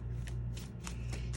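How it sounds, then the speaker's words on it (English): Liz Dean's Golden Tarot cards shuffled by hand, giving a few soft, quick riffling bursts at close range over a low steady hum, with no talking. "if you're careful with pressure, you can shuffle these"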